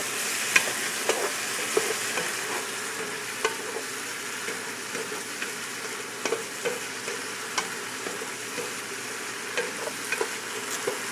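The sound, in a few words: stirring Italian seasoning into lasagna soup in a pot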